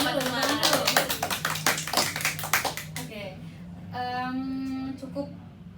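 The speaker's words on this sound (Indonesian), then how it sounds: "Tepuk tangan dulu dong teman-teman" A group of students at a university psychology faculty event gives a short burst of hand clapping, quick sharp claps bunched together for about three seconds. Talk follows the claps.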